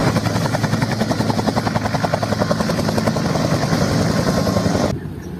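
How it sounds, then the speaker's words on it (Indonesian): A military helicopter in Jurassic World Evolution 2 chops steadily and loudly with a dense engine roar, then cuts off abruptly near the end. "Wah, ini helikopter teman-teman."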